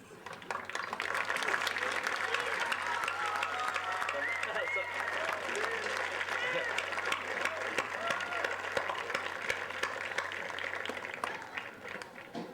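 Members of the class of 2007 stand and applaud at their graduation ceremony, a broad, sustained wash of crowd clapping heard from a distance at low level across the whole stretch, with voices mixed in.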